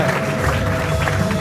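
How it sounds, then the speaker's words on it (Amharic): A church congregation at a prophecy service ululates and claps: a sustained high trilling tone rides over a dense wash of hand claps and crowd noise, loud and continuous. "ለእግዚአብሔር ክብር እልልታና ጭብጨባ ብዙለት።"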